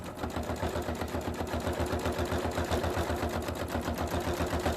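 A sewing machine runs steadily, stitching raw edge appliqué, its needle pounding in a fast, even rhythm that carries loud and close without a break.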